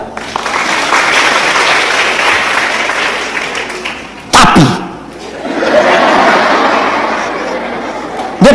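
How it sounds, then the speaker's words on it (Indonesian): A church congregation breaks into loud, dense applause. A sharp burst interrupts it midway, then the clapping swells again before ending, with some chatter mixed in. "Tepuk tangan."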